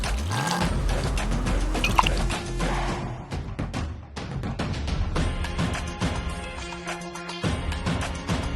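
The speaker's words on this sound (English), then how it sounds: "we're gonna add about 2-3 cups of white wine," Dry white wine is poured into a beef shank stew in a clay pot over a wood fire, a close splashing and trickling stream with some clattering of utensils.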